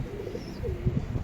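A Fulchira Kaldum pigeon coos softly close by, a short low throaty call with a couple of pulsing notes over quiet background.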